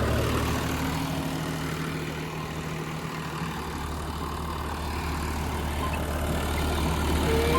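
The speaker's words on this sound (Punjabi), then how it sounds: "ਐਨ ਪੂਰਾ ਵਧੀਆ ਚੱਲ ਰਿਹਾ ਹੈ ਟਰੈਕਟਰ" A low, steady tractor engine drone runs continuously at moderate distance, with no speech.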